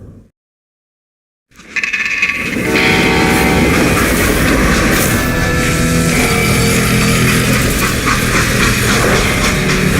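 A freight train in the Call of Juarez Gunslinger video game roars in loud and close after a brief silence, with heavy rumbling, clattering wheels and a tonal horn-like blare sustained to the end.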